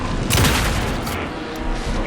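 Gunfire in the video game Alan Wake 2, a dense loud burst of shots with a strong blast at the start, then a sustained noisy roar with no clear talk.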